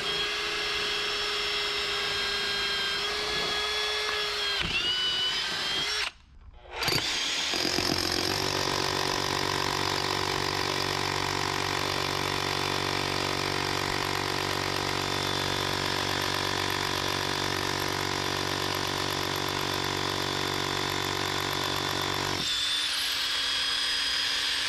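A core drill bores into concrete with a steady, loud grinding whine that runs unbroken for a long stretch, pausing briefly early on before starting up again.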